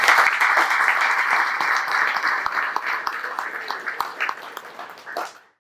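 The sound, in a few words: round of applause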